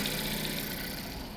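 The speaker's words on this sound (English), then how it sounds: "here's the difference between the noise from the engine, the exhaust" A 2012 Ford Focus sedan engine idles in a steady, low hum with a faint whine on top, quiet and even throughout the brief stretch.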